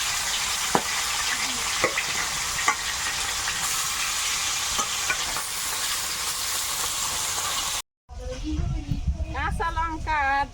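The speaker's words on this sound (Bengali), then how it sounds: "কড়াই গরম হয়ে গেছে দিয়ে দিচ্ছি তেল" Oil sizzles and hisses steadily in a hot kadai with a few soft clinks, then cuts off; afterward a person speaks over faint background noise.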